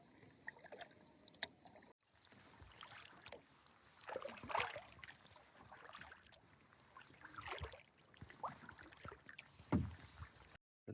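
A canoe being paddled on a lake in northern British Columbia, with soft, intermittent strokes and splashes and hull knocks close by, over a quiet outdoor background.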